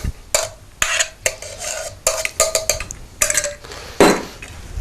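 Shredded chicken being mixed with sauce in a bowl for Circassian chicken, a series of wet squelching stirs and spoon clinks against the bowl, close and irregular.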